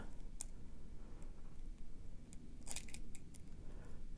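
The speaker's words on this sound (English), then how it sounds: "So I'm going to cut it a little bit further up." Small scissors or cutters snip the wire of a vintage coral bead necklace, two or three quick sharp clicks spaced apart against a quiet background.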